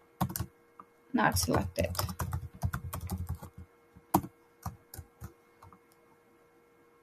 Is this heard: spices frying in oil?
no